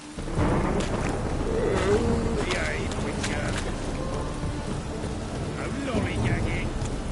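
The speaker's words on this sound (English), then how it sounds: "Raining buckets." Rain pours steadily in The Witcher 3 during a night storm, with a constant wash of falling water and low thunder rumbling underneath while a voice talks over it.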